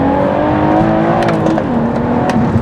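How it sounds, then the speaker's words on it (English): A manual BMW M140i launching hard on Pilot Sport 5 tyres, its engine revving loud and close with a brief chirp of wheel spin as it pulls away. "Ooh, bit of wheel spin from the PS5s there."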